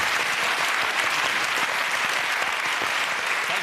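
Sustained applause from a studio audience at a comedy panel show, dense and steady clapping throughout with no talk over it.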